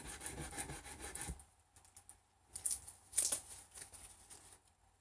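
Sandpaper rubbing across guitar frets during a refret, a dry scratchy rasping in repeated strokes, close and fairly faint, with no talking.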